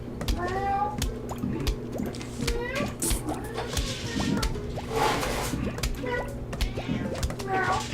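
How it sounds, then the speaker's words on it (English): A cat meows several times in the background of a room, its rising and falling cries mixed with a voice and playful electronic game sounds. "There, now the cat's meowing."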